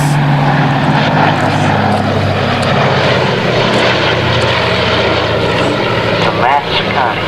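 Military transport aircraft flying overhead with its landing gear retracting: a loud, steady propeller-engine drone with a low harmonic hum, continuous throughout, with a slight dip near the end.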